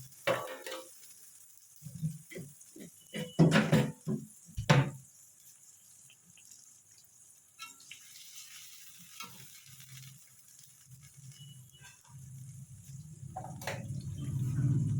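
Tomato paste hitting a hot pan for a vegetable dish gives sharp spatters and scraping stirs early on, then settles into a low, steady sizzle that grows louder toward the end, close and without talking.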